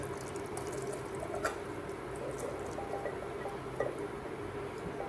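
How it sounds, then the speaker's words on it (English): Liquid pours steadily as canned whole kernel corn and its juice go into a cooking pot, a faint continuous watery stream with a couple of small clinks, no speech. "now let's add our corn. And I'm going to use the liquid in the corn."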